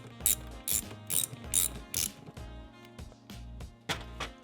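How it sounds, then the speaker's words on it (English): A hand ratchet loosening the 6mm bolt on an intake hose clamp of a BMW E46 330Ci, several quick bursts of close metallic clicking with short pauses between strokes. "so just get your ratchet, undo that."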